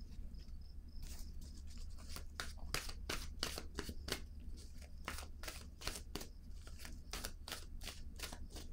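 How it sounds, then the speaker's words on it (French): Tarot-style cards handled and laid down on a table, a quick series of crisp papery slaps and shuffles over a low steady hum, close and fairly faint. "Je vais déposer une autre carte ici."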